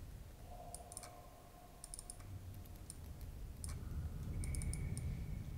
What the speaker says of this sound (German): dann muss ich klicken